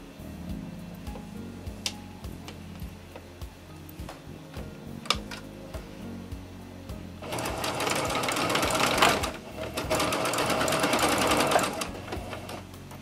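Sewing machine running a side-to-side stitch along a T-shirt side seam: quiet ticks and fabric handling first, then a sustained rapid mechanical whir that pauses briefly and resumes, fairly soft and close.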